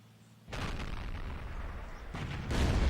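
Heavy tank cannon from the World of Tanks game, an AMX 50 Foch tank destroyer firing at an E100: a deep, booming blast that swells into a long rumbling roar, followed by another heavy burst near the end.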